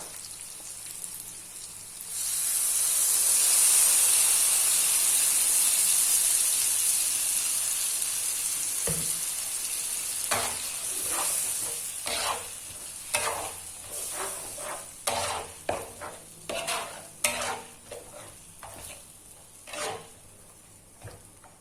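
Spice paste for Aceh-style goat curry sizzles and fries steadily in a pan, with a hissing wash that swells early, then scraping stir strokes rhythmically clack and rasp through the latter half, close and fairly loud with no talk.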